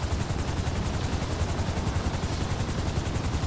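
A helicopter in the video game GTA 5 gives a steady, dense rotor roar with a fast rhythmic pulsing throughout, fairly loud and continuous.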